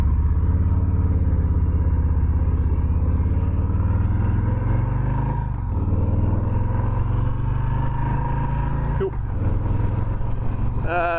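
A 2020 Harley-Davidson Softail Street Bob 107 motorcycle rumbles steadily and loudly while being ridden, its deep engine drone holding even throughout with a brief dip in tone partway through.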